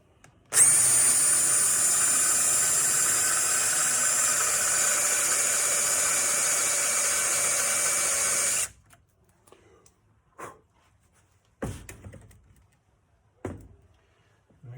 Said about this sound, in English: drill the main hole.